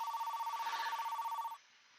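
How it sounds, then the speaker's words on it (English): A telephone bell rings loudly and steadily in a rapid trilling pattern, then cuts off abruptly, leaving a faint hum behind. "As I drifted off to sleep, the phone rang again."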